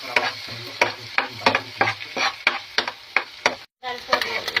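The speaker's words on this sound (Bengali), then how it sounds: "এই পেঁয়াজ, এই কাঁচামরিচ সব দিয়ে আমরা ভেজে নিলাম সুন্দরভাবে" Onion, green chillies and coriander leaves fry in a pan, a steady sizzle broken by rapid rhythmic scraping strokes of a stirring spoon, close and clear.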